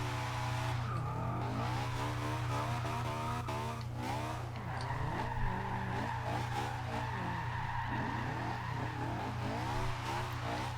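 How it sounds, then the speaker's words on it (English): A Honda S2000 drift build in Forza Horizon 2 revs hard through second gear, its engine note climbing and falling in steady harmonic sweeps over a constant low drone, loud and continuous with tire noise mixed in. "In second gear. You just rev this thing out."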